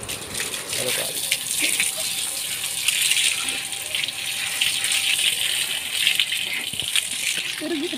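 Water gushes steadily from a pipe as buffaloes drink on a village farm, a close, continuous splashing flow with faint rattles.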